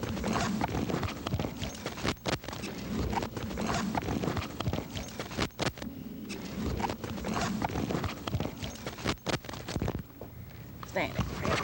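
Horse hooves clip-clop in a brisk, uneven rhythm of close knocks over steady background noise, with people speaking during the sound.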